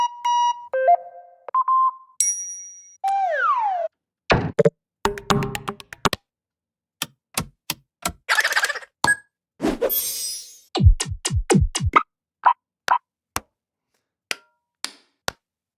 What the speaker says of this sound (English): there's a lot of clicking sounds